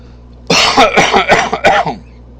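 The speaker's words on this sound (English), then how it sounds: "if you could put up with my coughing" A man coughs and clears his throat, a burst of several rough, close, loud hacks in quick succession following a brief quiet, with no speech.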